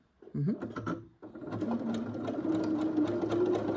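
A sewing machine stitching a seam at a 0.5 cm guide, a short run of stitching, a brief pause, then a longer steady whirring run, close and clear with a voice faintly underneath.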